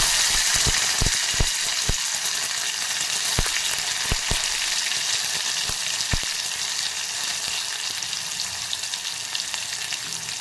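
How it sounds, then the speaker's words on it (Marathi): Chilli and tomato frying in a pan for a dal-based dish: a loud, steady sizzle runs throughout, with sharp crackles and pops scattered across it and no talk. "मिरची, आणि टोमॅटो टाकून घेते।"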